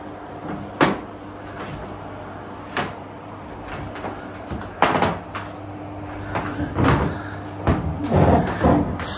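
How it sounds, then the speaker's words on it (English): Poorly installed, squeaky floorboards in a chateau hallway creak and pop repeatedly underfoot, with irregular sharp creaks over a steady room hum and no talking. "Super squeaky floors."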